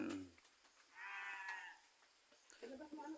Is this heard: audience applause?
no